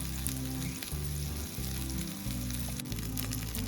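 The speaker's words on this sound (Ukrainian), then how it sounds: "На пательні розігріваю олію та смажу сирники на середньому вогні з обох сторін" Loud, continuous sizzling of cottage cheese pancakes frying in hot oil over medium heat fills the clip, crackling steadily with no voices.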